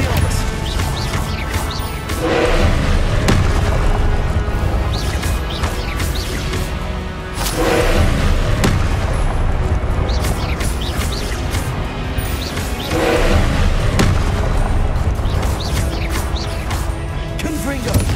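Confringo and Expelliarmus spell blasts in the Hogwarts Legacy game land as loud, heavy crashing impacts roughly every five seconds over a constant dense background of combat noise and effects, with voices heard throughout.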